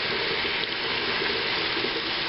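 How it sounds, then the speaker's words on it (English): Tap water runs in a steady, full rush close by while a painted hockey mask prop is rinsed, a broad constant gush with no voices over it. "I don't know if you can hear me with this water going"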